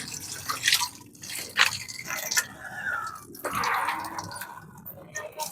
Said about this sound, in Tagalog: Lalagyan ko ng tubig yung inuminan nila mga kababayan. Kaya kukunin ko itong hose